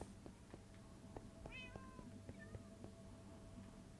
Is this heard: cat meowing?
yes